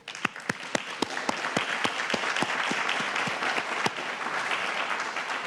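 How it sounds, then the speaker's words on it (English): Audience at a university homecoming awards ceremony applauding, starting with a few sharp, distinct claps that quickly swell into sustained, full applause lasting several seconds. "I offer you a round of applause"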